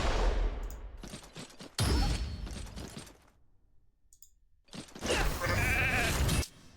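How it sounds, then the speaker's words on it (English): Sheep bleating in the video game RAID: Shadow Legends, mixed with bursts of battle effects and impacts in several loud blasts separated by a quiet gap. "I love the way Phoenix can just completely slaughter a sheep like that"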